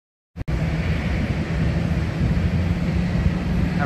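A Lufthansa airliner at Haneda Airport Terminal 3 gives off a steady, loud, broad roar that cuts in abruptly and holds evenly to the end, with no talking over it.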